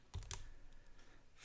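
A few soft key presses on a calculator keypad as a number is entered, with two quick clicks close together near the start and faint background hum afterward; no talking.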